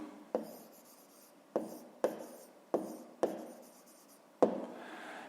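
Writing on paper during a math lesson: six short, crisp scratching strokes close by, each starting with a sharp tap and fading quickly, separated by brief quiet gaps.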